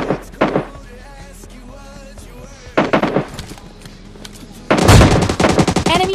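Gunfire in PUBG Lite from an S12 shotgun: heavy, booming single blasts in separate clusters, the loudest near the end, over low game ambience.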